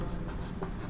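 Chalk or marker strokes on a board as a chemistry teacher writes out a rate-law equation, a faint scratchy scribbling with short pauses, quiet room tone beneath it and no talk over it.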